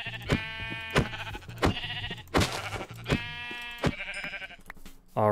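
Several short sheep bleats from the video game Minecraft repeat at a steady pace over a looping background music track, with no talking.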